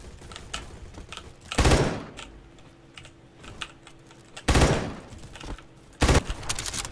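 Bursts of gunfire from the Roblox shooter Bad Business crackle in three loud volleys of rapid shots, separated by quieter stretches with scattered clicks.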